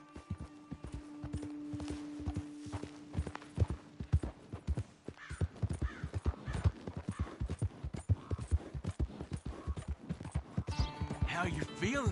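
Horse hooves clip-clop steadily through a ride in Red Dead Redemption 2, headed toward Blackwater, with a horse whinny near the end and talk over the riding.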